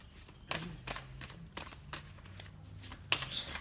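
Tarot cards being shuffled by hand for a love reading, a series of crisp riffling bursts and soft slaps spaced irregularly, close and quiet with no talk.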